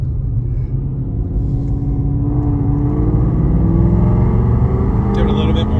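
A Beefcake Racing race car fitted with a newly installed Whipple supercharger pulls under throttle, a loud, close, steady engine drone rising slowly in pitch as it accelerates, with a brief shift near the end.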